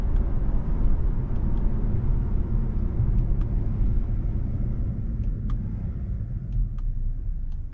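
A 2025 Acura TLX A-Spec sedan pulls steadily down the road, its engine note a continuous low rumble heard from inside the cabin, with faint clicks from quick paddle shifts and downshifts.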